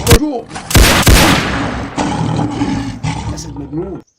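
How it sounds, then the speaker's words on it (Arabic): An African lion gives loud, close, drawn-out roars during a hunt, broken at the start by a few sharp, sudden bangs before the rumbling growls continue and then cut off abruptly. "أسد مجنون"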